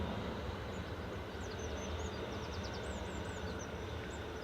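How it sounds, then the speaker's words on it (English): A KLM Embraer E190 airliner lands at Manchester Airport, heard as a steady distant rumbling roar that carries on throughout, with faint bird chirps above it and no talk. "KLM Embraer E190 landed now from Amsterdam, PHEZF"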